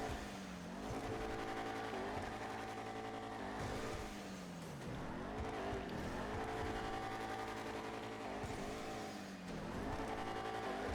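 A video-game car in GTA Expanded and Enhanced revs hard while pulling a wheelie, its engine note repeatedly climbing and dropping in loud sweeping cycles with tire noise mixed in.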